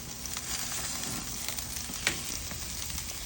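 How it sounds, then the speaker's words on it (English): Salmon and golden oyster mushrooms sizzle on a grill, giving a continuous soft crackling hiss with a few brief pops, fairly faint and heard alone. "We will now cook our salmon and our mushrooms on the grill."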